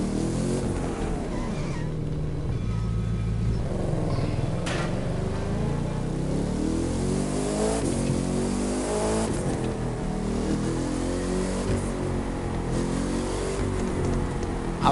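Bugatti Divo hypercar engine in the racing game The Crew 2, a loud, continuous roar rising and falling through gear shifts and revs, with no talking over it.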